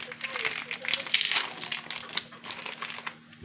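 Oreo biscuits snapped and crumbled by hand into small pieces for a cake, giving close, dry crackling and crinkling bursts throughout, with a voice faintly present.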